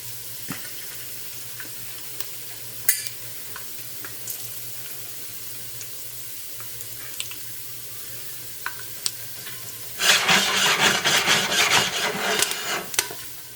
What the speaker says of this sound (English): the more that pop, I know they're ready, and I don't want them shooting all over my kitchen